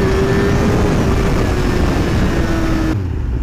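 A ragged old Porsche 944 passing close by, its engine drone holding steady and fairly loud before cutting off abruptly near the end.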